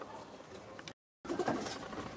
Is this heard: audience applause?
no